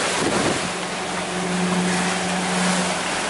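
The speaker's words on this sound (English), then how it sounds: "We've got so these massive crashes of waves." Ocean waves crash and wash against a sailing boat beating north into the trade winds, a loud, continuous rushing surge with a steady low drone beneath and no voices.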